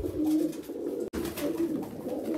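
Pigeons cooing close by in soft, low, repeated throaty coos, calm and steady across the clip with a very brief break midway.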